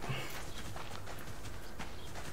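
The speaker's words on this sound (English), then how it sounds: "You can hear him pounding his feet right behind me." A wolf runs close behind the player in the survival game Subsistence, its paws thudding in a quick, steady gallop over a continuous background wash.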